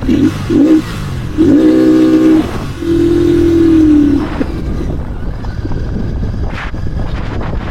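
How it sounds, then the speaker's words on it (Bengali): A 2025 Royal Enfield Continental GT 650 motorcycle with a 650 cc engine is ridden, its exhaust rising and falling in a few revving pulls before settling into steady cruising under wind rush. "650 সিসির বাইক চালাচ্ছি"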